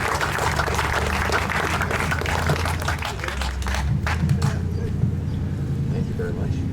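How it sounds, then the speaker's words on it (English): Outdoor crowd applause at a birth home marker unveiling ceremony, dense steady clapping that runs the whole time with crowd noise and some speech underneath. "let's give him a big round of applause for being here today"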